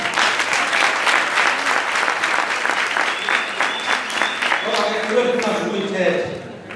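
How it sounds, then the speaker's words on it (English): A gathered crowd breaks into loud, sustained applause at a celebration, dense clapping filling the room with voices calling out beneath it and a few cheers toward the end. "A round of applause to all of us."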